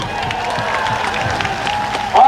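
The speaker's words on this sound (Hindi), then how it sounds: "और इससे ज्यादा ताली आप तब दीजिए" A crowd at an Indian Congress political rally in Tripura claps and cheers steadily under a man's amplified speech, with the applause swelling louder right at the end.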